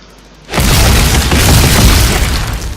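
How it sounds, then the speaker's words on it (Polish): A corpse explosion from a necromancer in Diablo III on hardcore, a sudden loud booming burst that starts about half a second in and then rumbles on as sustained noisy blasts to the end, with no talk. "Hmm, wybuch zwłok."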